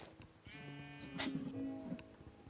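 Sheep bleat in the Minecraft video game, one or two close, wavering calls lasting about a second each, set against a low in-game ambient hum with no talking.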